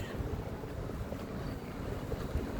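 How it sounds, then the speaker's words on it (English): Steady blustery wind buffeting the microphone, a low continuous rumble with no voices. "The weather's better today, but it's a little bit windy."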